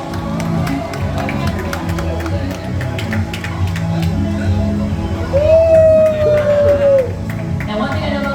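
A crowd cheers and claps at a horse jumping show at the Kentucky Horse Park. The cheering swells near the end, people talk throughout, and a whistle-like tone rises briefly over the noise.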